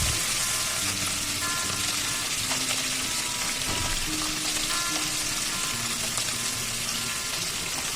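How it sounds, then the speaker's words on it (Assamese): Fish fries in hot mustard oil in a pan, a steady loud sizzle and crackle holding evenly throughout with no talk. "এতিয়া পেন বা কেৰাহী এটা গৰম হ'বলৈ দিম। এইটো ভালকৈ গৰম হোৱাৰ পিছত মিঠাতেলখিনি দি দিম।"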